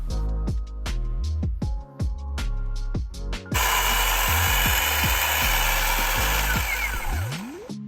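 A ProCraft PKA40Li cordless electric chainsaw revs in short repeated bursts, then holds a loud steady whine for several seconds before winding down, close and prominent with no talking.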